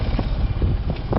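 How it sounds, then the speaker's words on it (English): V8 backup engine of a sailing boat running at full power, a steady low rumbling drone mixed with wind buffeting on the microphone, fairly loud and continuous over a short stretch. "You can hear the engine pumping out."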